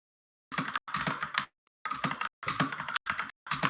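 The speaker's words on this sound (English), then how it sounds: "keyboard's so loud" Loud computer keyboard typing comes in close, fast bursts of clattering keystrokes separated by short silent pauses, with no voices over it.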